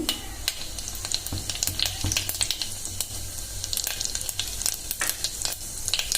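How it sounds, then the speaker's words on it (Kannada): Mustard seeds and cumin hit hot oil for masala rice, crackling and sizzling steadily up close with sharp pops scattered throughout, and no talking. "ಈ ಎಣ್ಣೆಗೆ ನಾನೀಗ ಸ್ವಲ್ಪ ಸಾಸಿವೆ ಹಾಕೋತಿದ್ದೀನಿ."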